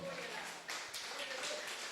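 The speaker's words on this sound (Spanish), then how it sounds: "Si quiere, le regala aplausos al Señor." A church congregation applauding, a soft patter of clapping hands heard under a voice speaking over it.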